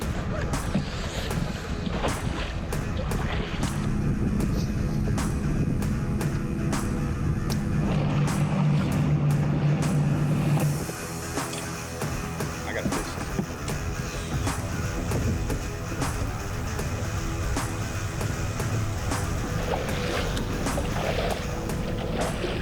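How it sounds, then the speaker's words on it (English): Steady roar of bass fishing boat engines launching on Lake Eufaula, Alabama, with wind buffeting the microphone throughout and a deeper motor drone rising and fading midway. "You can hear the boats blasting off right behind us."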